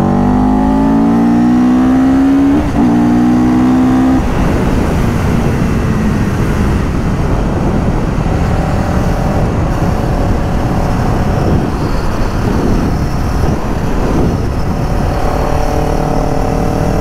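A motorcycle engine revs hard, accelerating up a highway insertion lane, loud and close with a rising whine that settles into a sustained roar of engine and wind.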